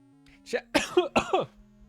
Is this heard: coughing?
yes